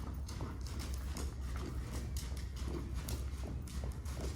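A horse's hooves step steadily on arena footing during a dressage ride, a soft rhythmic thudding under constant broadband noise, with no clear talking.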